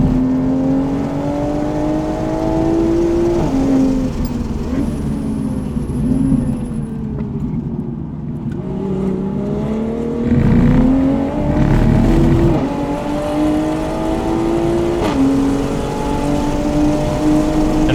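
A Toyota GR Supra accelerates hard on a race track through a corner, its engine note loud and close, rising and falling with gear changes and a sustained whir for the whole stretch with no talk.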